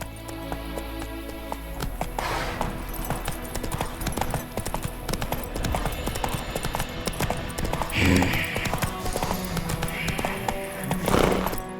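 Hooves of Roach, a horse in The Witcher 3: Wild Hunt, clopping at a trot over a dense bed of game music and ambience, with speech breaking in at moments.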